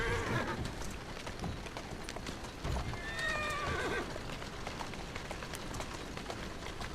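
A horse in the video game Assassin's Creed Syndicate trots with steady, close clip-clopping hooves and lets out a whinny partway through, with no voices over it.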